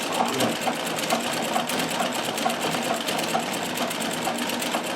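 A Riccar 570 sewing machine with a walking foot fitted stitches stretch fabric, a rapid steady mechanical chatter of repeated needle strokes, close and fairly loud, heard alone without talk.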